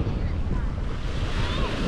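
Rough sea waves washing on the beach at Playa Mamitas, a continuous rushing surf mixed with heavy wind buffeting the microphone, loud and close.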